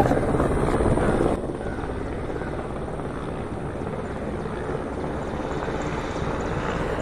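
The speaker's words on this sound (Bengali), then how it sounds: "দেখো আমার সামনে দিয়ে কিন্তু একটা হেলিকপ্টার আসছে, হেলিকপ্টারের আওয়াজ পাচ্ছি" A patrol helicopter passes low overhead, its steady rotor thrum loud throughout, slightly stronger in the opening second and then holding a constant drone.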